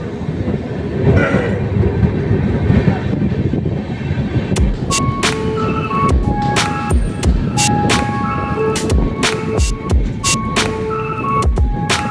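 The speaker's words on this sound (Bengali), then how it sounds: "কটক স্টেশন থেকে কিন্তু ট্রেন ছেড়ে দিয়েছে" A Howrah to Puri train, just departed Cuttack station, rumbles along steadily with rhythmic clattering of wheels over rail joints, loud and close, with sharp metallic clicks in the second half.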